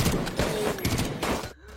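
Bursts of gunfire crack in a shootout with police, several loud, closely spaced shots in quick succession, then a sudden drop to quieter sound.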